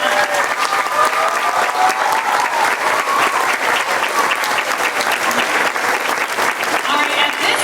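Loud, sustained applause from a school assembly audience at an elementary school, a dense crackle of many hands with faint voices and cheers mixed in.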